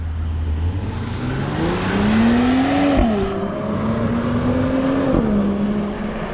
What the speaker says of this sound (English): See, that's a new car